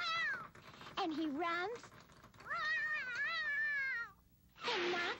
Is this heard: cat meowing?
yes